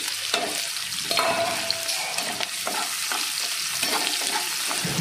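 Chopped onions frying in hot oil with cardamom for chicken do piaza, a loud, continuous crackling sizzle with occasional scrapes of stirring, no voices.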